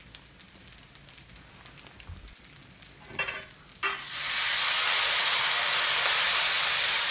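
Rice stir-fried with light and dark soy sauce, sugar and white pepper: a few soft stirring scrapes and clacks, then a loud, steady sizzle rising and holding as the sauce hits the hot pan.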